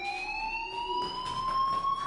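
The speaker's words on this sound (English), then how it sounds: "do you hear that fire alarm?" A fire alarm in the video game Life is Strange sounds a continuous, piercing electronic tone that slowly rises in pitch, loud and unbroken with no voices over it.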